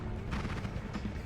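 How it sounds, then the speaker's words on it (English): A short, rumbling blast from the video game Noita, a dense crackling burst with a few overlapping pops that stays loud across its brief length. "Looks a little close to that explosion."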